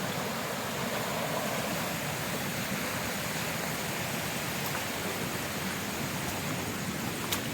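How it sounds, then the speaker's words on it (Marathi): A stream runs through darkness near Katalkada in Rajapur, its water giving a dense, unbroken rush that stays even and fairly close for the whole stretch, with no voices over it. "आवाज यायला लागला आहे पर्याचा पाण्याचा"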